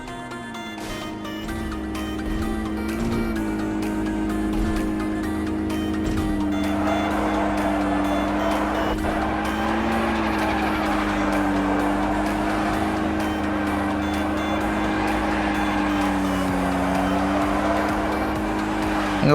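A Porsche in the mobile game BGMI drives with a steady engine drone and rising, wavering revs, loud and continuous throughout, with tyre squeal hinted as it spins.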